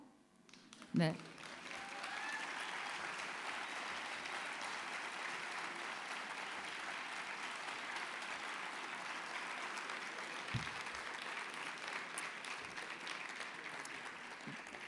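Applause from an audience at an honorary doctorate ceremony, sustained and even clapping from a large crowd, fairly faint and distant, running for the whole stretch after a brief thump at the start.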